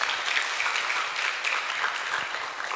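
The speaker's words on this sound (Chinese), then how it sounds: "来掌声鼓励一下" An audience claps together in a dense, steady burst of applause at a Buddhist lecture, sustained evenly for a few seconds without talk.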